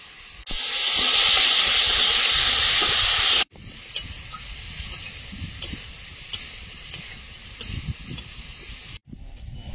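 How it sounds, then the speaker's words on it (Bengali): Potatoes hit hot oil in a pan with a loud, steady hiss lasting about three seconds, then settle into a quieter sizzle broken by small scraping clicks of stirring. "এবার আলুটা ভেজে নেব।"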